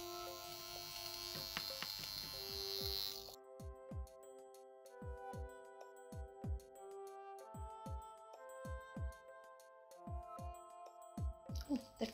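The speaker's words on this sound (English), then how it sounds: "I take my high frequency machine comb and I comb through my hair" A high-frequency skincare comb buzzes steadily as it is drawn through hair for about three seconds, then gives way to soft plucked musical notes.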